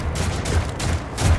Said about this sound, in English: Those look like las cannons, but they sound like bolt guns.